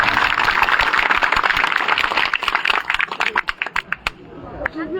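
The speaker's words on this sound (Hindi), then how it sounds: "जोरदार तालियां।" Villagers applauding loudly at a rural gathering, dense clapping that thins out into scattered individual claps before fading, with a voice speaking over it.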